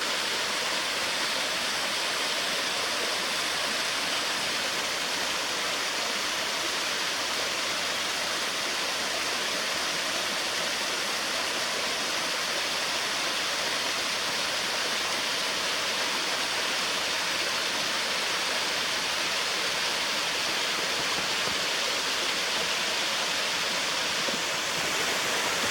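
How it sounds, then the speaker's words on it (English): A waterfall, one of the main falls at a long-exposure photography spot, roars in a steady, dense broadband rush that holds constant throughout with no voices. "I believe this is the waterfall, or one of the main waterfalls."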